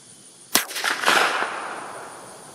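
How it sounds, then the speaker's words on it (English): A 9mm pistol fitted with a Griffin Armament Optimus silencer fires: a sharp, close report, then a second, softer crack about half a second later, with a short echo trailing away. "So now we'll fire some rounds"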